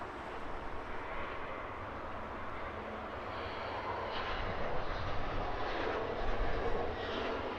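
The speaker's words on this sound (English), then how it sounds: "the Emirates A380 firing up, being pushed back from the position directly in front of us" An Emirates Airbus A380 being pushed back at Heathrow, its jet engines spooling up into a broad, steady droning roar that swells slightly toward the end, heard from close by with no talk.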